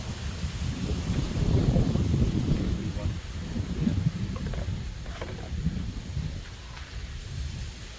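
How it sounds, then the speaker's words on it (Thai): Strong, cold wind buffets a Thai vegetable garden in South Korea, making a continuous low roaring rumble and microphone gusts, with voices faintly under it. "อ้าวลมก็แรงด้วย"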